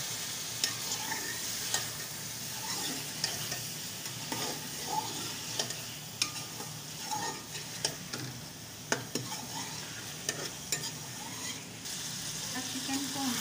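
Chicken sizzles and fries in a pan with browned ginger-garlic paste for a chicken achari, with repeated stirring scrapes throughout. The frying is steady and close, with no talk.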